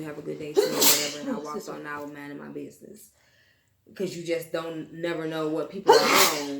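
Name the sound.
sneeze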